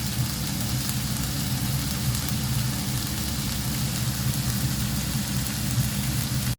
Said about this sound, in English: Let them saute for 5 minutes.